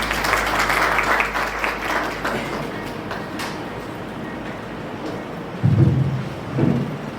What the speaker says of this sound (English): A big round of applause for them, please.